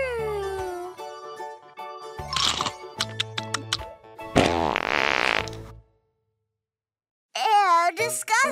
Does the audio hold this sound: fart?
yes